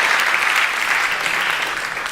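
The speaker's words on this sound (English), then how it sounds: "let's give a big round of applause to all the volunteers" Audience applause for the volunteers at the HackZurich 2021 hackathon closing ceremony, a dense steady wash of many hands clapping that holds at even loudness throughout.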